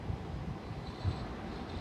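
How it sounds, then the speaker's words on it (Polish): An Intercity train from Babel to Przemyśl pulls into Opole station, a low, steady rolling rumble with faint wind-like noise and no voices. "I wjeżdża pociąg Intercity Babel do Przemyśla"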